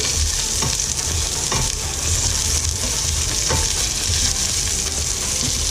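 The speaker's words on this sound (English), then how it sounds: "Saute the onion." Onion sautéing in a hot pan for kansi, a Bicol-style dish: a steady, loud sizzle runs throughout, with a few soft stirring scrapes along the way and no voices.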